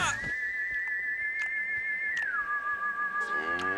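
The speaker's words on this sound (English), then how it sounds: "Every time I pull out a melon, we hear another whistle." A sustained whistle tone holds steady, then slides down to a lower pitch and carries on, clear and fairly quiet, heard as a melon is pulled out of a melon patch, with faint soft taps in the background.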